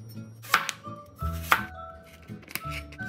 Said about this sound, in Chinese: 先切薄片，再切成丝